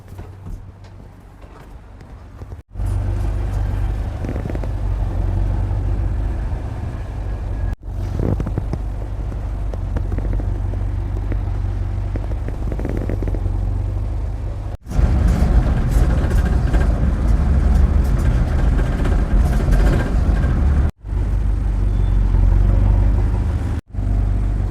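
Ride in the back of a private red truck taxi, a songthaew, through Chiang Mai, Thailand: a steady, close engine rumble and road roar that runs almost unbroken, with a few abrupt cuts, and faint rattles on top.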